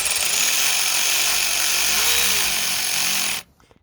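A power tool drives bolts during a Subaru Outback automatic transmission installation, a loud steady whirring run that stops abruptly near the end, leaving faint room noise.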